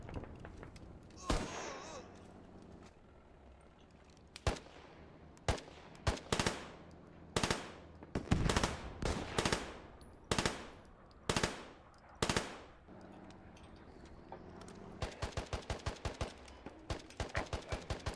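Distant gunfire in the Squad military shooter, quiet, sharp single shots and short bursts scattered across the clip, ending in a quicker run of automatic fire.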